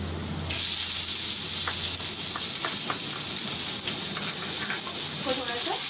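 Chopped onion sizzles in hot oil in a pan, a steady loud hiss that starts abruptly and continues throughout, with faint stirring taps and brief speech in the background.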